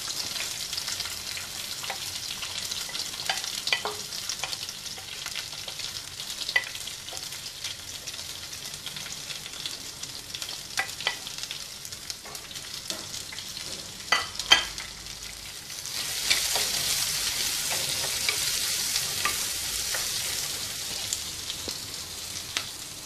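Shallots, garlic and ginger fry in a pan with browned urad dal for a Kerala squid thoran, sizzling throughout with scattered stirring clatters and a louder burst of crackling toward the end.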